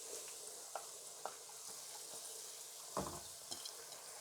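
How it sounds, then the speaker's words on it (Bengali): Moong and masoor dal frying in oil for a meat khichuri, a steady soft sizzle with a few stirring scrapes and clinks scattered through, close and fairly quiet with no talking. "প্রথমে আমি মুগ ডাল আর মুসুরের ডালটা ভেজে নিচ্ছি"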